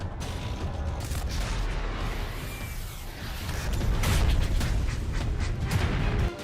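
Bombing explosions and artillery fire from Israeli army tanks in the Gaza Strip, heard as a dense, continuous rumble of distant blasts and crackling bursts that swell louder toward the end, with no voices.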